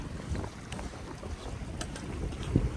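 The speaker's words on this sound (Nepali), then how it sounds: "चिसो हावा तागेको छ हौ" Gusty cold wind buffets the microphone in a low, uneven rumble near Larke La Pass on the Manaslu Circuit, with faint rustling outdoors and no voices.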